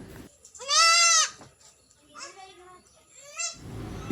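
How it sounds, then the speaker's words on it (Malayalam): Goats on a farm near Palakkad, a buck and five does, bleat loudly and close by: one long quavering call, then two shorter wavering bleats, with faint background noise between. "ഈ വീഡിയോയിൽ കാണുന്ന ആറ് ആടുകൾ വിൽപ്പനയ്ക്ക് ഒരു മുട്ടനും അഞ്ച് പിടയുമാണ്"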